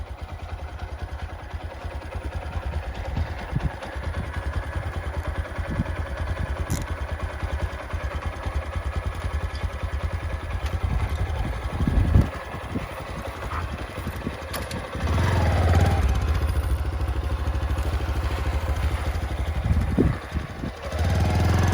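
A Bajaj CT110 motorcycle engine idles steadily close by with a rattling, clattering chug, revving up briefly around the middle and again later.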